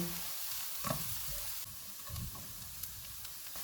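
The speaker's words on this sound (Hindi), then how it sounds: "इनको भी 2 मिनट तक भूनेंगे" Ground spices for a potato samosa filling frying in a pan, a soft continuous sizzle with a few scraping stirs of a spoon, close and fairly quiet.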